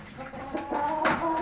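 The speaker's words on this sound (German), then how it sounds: "Die Hühner schwätzen." Soft, close clucking and low murmuring from chickens in a henhouse, a brief sharper call near the end, with no talking.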